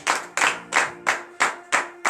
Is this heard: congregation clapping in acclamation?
yes